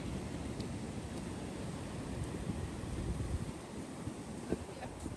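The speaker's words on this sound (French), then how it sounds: "Alors pensez-vous que Gab va se faire avoir une deuxième fois par les vagues?" Ocean surf washing onto a beach on the Irish coast, a steady broadband roar of breaking waves with wind buffeting the microphone throughout, fairly close and continuous with no clear pauses.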